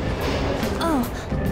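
A subway train in Persona 5 rumbles on in a steady low drone with faint clattering, while a voice speaks briefly over it.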